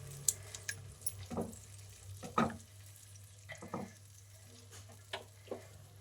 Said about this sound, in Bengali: দইটাকেও ভালো করে মিশিয়ে নেবো, কষিয়ে নেবো।